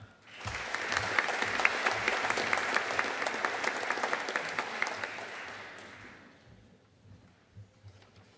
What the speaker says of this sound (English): let's give the class of 2024 a big round of applause